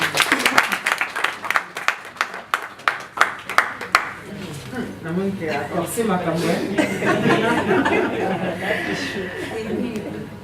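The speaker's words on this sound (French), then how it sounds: "Des applaudissements s'il vous plaît." At a press conference, a handful of distinct hand claps ring out in an uneven rhythm, then give way to chuckles and murmured chatter from the room, with voices talking over a low background.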